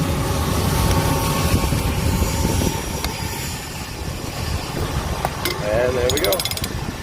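A ratchet works an aircraft wheel axle nut during a wheel change, giving bursts of fast metallic clicking over a busy background of hangar machinery rumble, with a few sharp clanks near the end.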